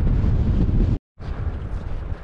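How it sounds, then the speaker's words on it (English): Heavy wind buffets the microphone outdoors while fatbiking at about 32 degrees, with a loud, rumbling roar that cuts out briefly, then returns a bit softer. "A little windy."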